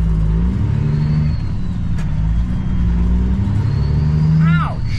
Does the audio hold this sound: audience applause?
no